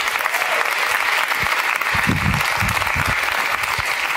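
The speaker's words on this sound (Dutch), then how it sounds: "Een groot applaus voor Raoul Heertje." A theatre audience at De Balie in Amsterdam gives loud, sustained applause to welcome a cabaret comedian taking the stage as host. The packed, even clapping continues without a break.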